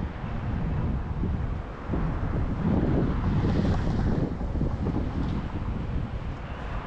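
Strong wind gusts outdoors buffet the microphone in a continuous low roar, rising and falling without a break, while a car with engine trouble stands nearby.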